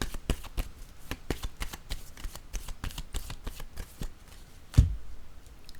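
Tarot cards are shuffled by hand in quick close riffles and flicks, a crisp rhythmic series of papery snaps ending with a firmer thump as the deck is set down, with no talk.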